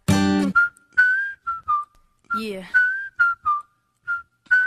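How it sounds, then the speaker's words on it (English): An audience at a live show whistles in a series of short, bright, clear whistle bursts, some rising in pitch, punctuated by a brief shouted voice at the start and in the middle. "Let's make them whistle, y'all."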